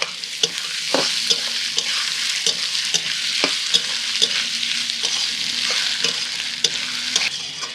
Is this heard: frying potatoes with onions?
yes